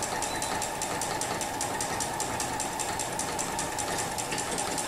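A domestic sewing machine runs continuously while free-motion quilting interlocking curved lines, a fast, even needle chatter with a steady motor hum, close and unbroken for the whole stretch, no voices.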